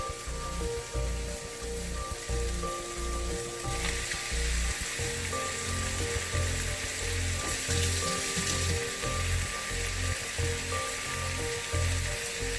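Canned ackee and fish fry steadily in a pan, a loud continuous sizzle with occasional stirring, close up and without talk throughout.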